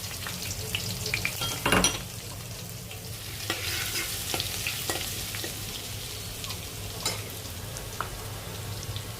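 Cumin seeds and garlic sizzle in hot oil for a rustic vegetable dish, a steady close crackling fry broken by repeated scraping stirs of the pan.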